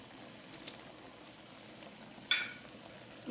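Tomatoes dropping into a pot for an ackee rundown with smoked mushroom, giving a soft, steady sizzle with a brief louder burst as they hit the hot liquid.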